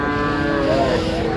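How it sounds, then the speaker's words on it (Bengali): Young bull calf at a busy village cattle market (Ambari haat), a sustained low moo-like bellow lasting over a second amid the steady crowd hum. "ষাঁড় বাচ্চা"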